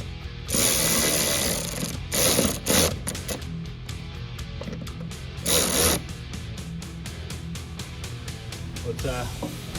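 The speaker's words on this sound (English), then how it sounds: "3D printer, printing TPU." TPU car hood bumper printing on a 3D printer, a steady mechanical whirring with bursts of louder motor buzzing and rapid stepping clicks, fairly close.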